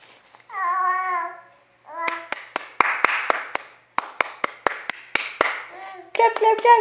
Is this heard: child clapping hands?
yes